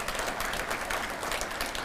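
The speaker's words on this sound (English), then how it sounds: "Give them a round of applause, please." Audience applause at a regional economic development event, a steady dense wash of clapping from a crowd filling the room throughout, with no talk over it.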